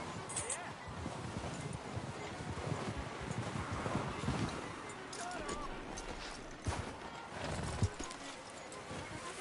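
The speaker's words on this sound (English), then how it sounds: "Get a hold of that horse, Morgan." Horse hooves clip-clopping with a neigh in Red Dead Redemption 2, heard amid wind noise and other game ambience, with a few sharper thuds near the end.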